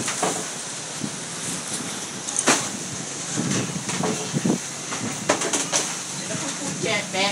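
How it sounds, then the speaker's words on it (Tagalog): Strong wind blowing during a rainstorm, a steady hissing rush with gusty surges, moderately loud, with occasional clatters and some voices in the background. "Lakas ang hangin, wala namang ulan."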